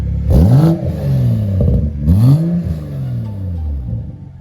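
Toyota Supra engine fitted with a new charge pipe revs twice in quick succession, each loud rising-and-falling sweep close by, with idle rumble between and after.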